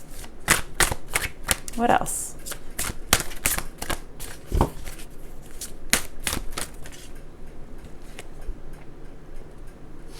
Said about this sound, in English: the Spirit Animal deck can be a little bit hard to shuffle because they're just so big, these cards